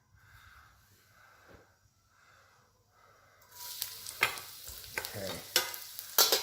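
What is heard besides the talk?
garlic sauteing in oil in a pan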